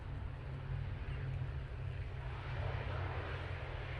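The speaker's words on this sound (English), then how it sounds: "Nice level wings there from that prop. Oh, beautiful landing." A propeller aircraft lands at Manchester Airport, its steady low engine drone and broad rumble holding at a moderate, fairly distant level throughout with no talk.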